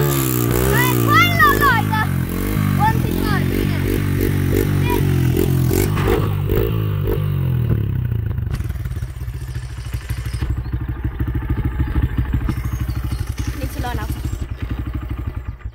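Honda CRF100F dirt bike running after a hard start, its single-cylinder engine revving up and down in uneven bursts before settling into a fast, steady idle chatter, loud and close, with a person speaking over the early revs.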